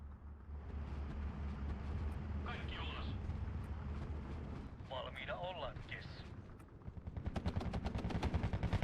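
Steel Division 2 battle sounds build into rapid, rhythmic machine gun fire near the end, with heavier artillery-like thumps underneath earlier and a voice talking over the action.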